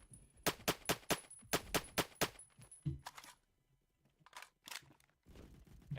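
In the video game Phantom Forces an RPK-74 machine gun fires in sharp bursts of rapid evenly spaced shots, loud and close, with short pauses and a few more scattered rounds after the bursts.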